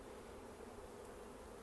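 Honeybees hum in a dense, steady, faint buzz from a busy hive with capped brood, with no voices heard.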